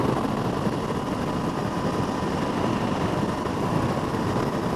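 Triumph Tiger Sport 660 motorcycle engine cruising steadily at about 4,000 RPM in sixth gear near 55 mph, a continuous broadband drone mixed with rushing wind, loud and unbroken with no talking.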